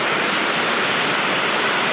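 Heavy rain pours down in a dense, steady roar during a village Lakshmi puja, close and constant with no breaks.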